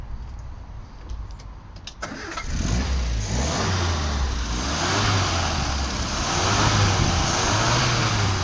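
A car engine fires up and settles into a strong, steady run, then picks up throttle with rising revs; close and loud throughout, with no talk over it.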